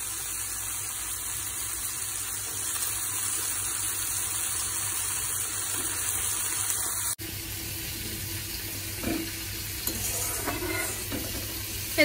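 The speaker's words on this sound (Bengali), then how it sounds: "এদিকে সবজিগুলো সব ভাজা হচ্ছে" Cut vegetables fry in a pan at home, giving a continuous moderate sizzle with occasional stirring clatter, joined partway through by a brighter hiss and a few clinks, with no talking.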